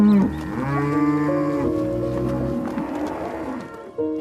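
Dairy cows on a drought-hit Australian farm low loudly and close by, one long drawn-out moo sliding in pitch with other cattle calling underneath.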